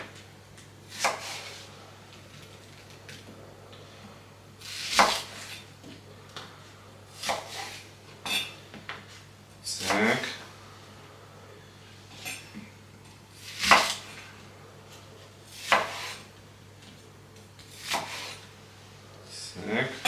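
Shallots are sliced with a knife into thin rounds: a series of sharp, separate cuts spaced every couple of seconds, with quiet kitchen handling noise between them.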